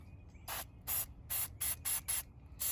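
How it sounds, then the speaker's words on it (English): Liquid Wrench dry lubricant is sprayed from an aerosol can in seven short hissing bursts, close and crisp, spaced in a quick irregular rhythm with a faint background hum. "Next, we're gonna use our dry lubricant, Liquid Wrench."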